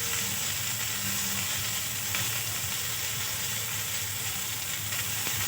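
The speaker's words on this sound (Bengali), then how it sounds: "লবণ দিয়ে আরও কিছুক্ষণ ভেজে নেব।" Cauliflower fries with salt in a pan, giving a steady, moderately quiet sizzle that carries on alone throughout.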